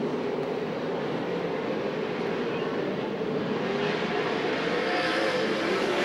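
USAC/CRA sprint cars race around a dirt track at Alger, Washington, their engines blending into a steady, distant roar that builds slightly as the pack passes.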